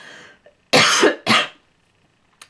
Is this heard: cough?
yes